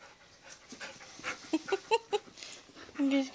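A dog pants close by in short, quick breathy bursts, with a few brief whiny squeaks mixed in.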